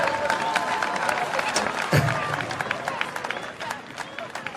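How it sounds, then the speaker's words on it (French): Applause from an awards-ceremony audience at a tenth-anniversary trophy presentation, a dense, steady wash of clapping with crowd noise and some background voices, holding throughout at moderate level. "on va l'applaudir très fort, mesdames et messieurs"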